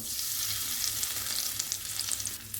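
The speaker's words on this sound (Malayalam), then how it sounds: "കടുകിട്ട് കാണാനില്ല ആ സൈഡിൽ പോയി എണ്ണ അതൊന്ന് പൊട്ടട്ടെ പച്ചമുളകിടാം കറിവേപ്പില ചേർത്ത് കൊടുക്കാം" Mustard seeds, green chilli and curry leaves fry in hot oil with a steady, loud sizzle and scattered crackling pops throughout, no voices.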